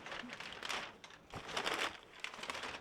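Wrapping paper crinkling and rustling while a Tory Burch bag is unboxed, in close, bursty handfuls of crisp crackle with brief pauses between them.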